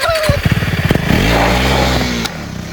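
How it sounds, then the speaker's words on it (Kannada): A KTM Adventure 390 motorcycle revving hard during a burnout, the engine loud and close with pulsing rises in pitch before settling into a sustained high roar that drops at the end. "ಒಂದ್ಸತಿ ಬರ್ನೌಟ್ ಯಾಕೆ ಟ್ರೈ ಮಾಡಬಾರ್ದು ಅಂತ"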